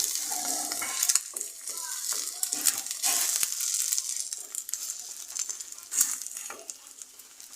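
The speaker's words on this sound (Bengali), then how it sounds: "এভাবে আমি প্রতিটি পরোটা ভেজে নেব" Egg paratha frying in a pan, a bright continuous sizzle with irregular scraping and tapping of a utensil against the pan, close and fairly loud, with no talking.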